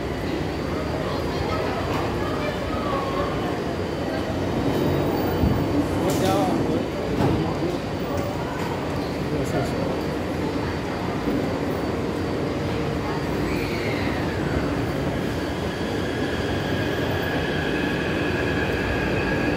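A Taipei Metro C381 high-capacity steel-wheel train, set 2513+2514, runs at Shilin Station on the Tamsui-Xinyi Line toward Beitou. A steady loud rumble of rolling wheels is joined by a rising squeal, with voices talking in the background.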